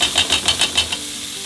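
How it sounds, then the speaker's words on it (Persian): An egg frying in a pan with salt and a little dill for Gilani piyaz chakhardameh gives off rhythmic bursts of sizzling and stirring, close and moderately loud, with no talking. "حالا یه تخم مرغ رو همراه با نمک و کمی شوید سرخ و لوبیا ها رو اضافه میکنه."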